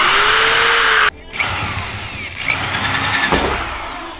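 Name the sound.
stronger power drill drilling through truck for light bar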